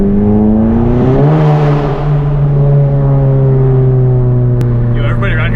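Modified Volkswagen GTI Mk7 engine accelerates hard nearby, a loud rising rasp that peaks and then holds a steady strained drone, with a sharp crackle near the end and faint voices underneath.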